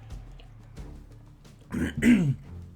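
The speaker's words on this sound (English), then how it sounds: "I apologise for the cough." A person coughs and clears their throat nearby, a couple of rough bursts near the end after a quiet stretch.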